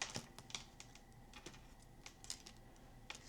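Quick, light papery clicks and flicks in irregular bursts as small tarot cards are shuffled rapidly close to the microphone, with no talking.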